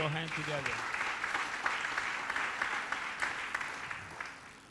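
A church congregation applauds and cheers the Lord in a steady burst of clapping, with voices raised over it and a voice at the start.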